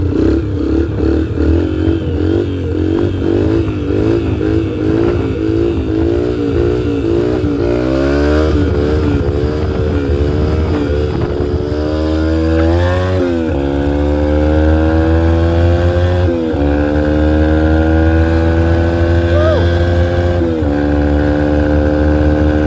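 Dirt bike engine burbling steadily while being ridden through a neighborhood, loud and close with rising and falling harmonic revs as the rider shifts and accelerates, continuous throughout with no talk.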